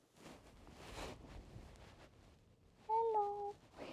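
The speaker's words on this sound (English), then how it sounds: "My cat!" A house cat gives a couple of short, clear meows near the microphone toward the end, after a stretch of soft rustling and breathy handling noise.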